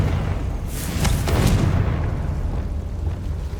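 A Confringo blast spell explodes in the Hogwarts Legacy video game as one loud, rumbling, broadband boom that swells briefly and stays heavy throughout.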